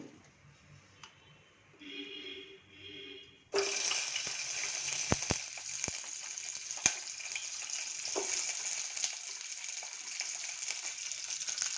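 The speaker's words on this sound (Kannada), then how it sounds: "ಎರಡು ಸ್ಪೂನ್ ಆಯಿಲ್ ಹಾಕಿದ್ದೀನಿ ಇದಕ್ಕೆ ನಾಲ್ಕೈದು ಹಸಿಮೆಣಸಿನ್ಕಾಯಿ ಹಾಕ್ತಾಯಿದ್ದೀನಿ ಸೀಮೆ ಬದನೆಕಾಯಿ ಮೂಲಂಗಿ ಸಿಪ್ಪೆ ಇದಿಷ್ಟನ್ನು ಬಾಡಿಸ್ಕೊಳ್ತೀನಿ" Green chillies, chayote and radish peel hit hot oil in a pan, a quiet lead-in giving way to a sudden loud, steady sizzle with a few sharp ticks of stirring over it.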